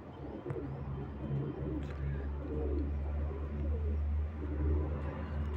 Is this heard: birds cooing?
yes